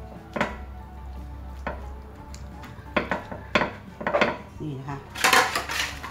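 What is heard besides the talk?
chicken pieces put into a cooking pot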